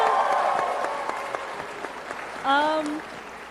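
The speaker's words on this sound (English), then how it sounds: "Yeah, a round of applause for Momo." Applause from a fan convention audience at a Q&A panel, a broad steady patter that thins out over a few seconds, with a voice briefly speaking over it near the end.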